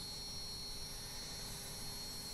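A BAE Hawk T1 jet engine spooling up during start in Microsoft Flight Simulator, a steady loud turbine roar with a high whine and hiss held evenly throughout, no voices.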